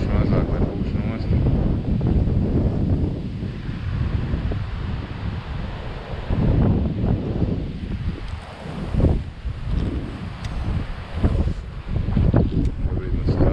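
Gusty wind on a canal while fishing for perch and pike buffets the microphone throughout, a steady low roar that rises and falls, with quiet talk partly buried beneath it.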